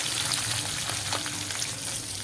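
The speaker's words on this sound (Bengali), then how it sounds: "আর এই যে ফলি মাছ ভাজা হচ্ছে একদিকে, দু সাইডে দুটো হচ্ছে।" Phali fish, a pomfret-like fish, fries in hot oil in a pan, making a dense, steady crackling sizzle heard up close with no talking.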